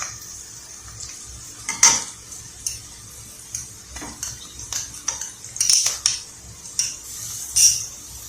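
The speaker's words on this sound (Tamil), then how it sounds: "இஞ்சி பூண்டு பச்சை வாசம் போகணும்லையும் நல்லா கிளறி விட்டுக்கலாம்" Onion, ginger and garlic sauté in a pan for cauliflower sabji while a spoon stirs with scattered metallic clinks and scrapes, some in quick clusters, over a faint sizzle.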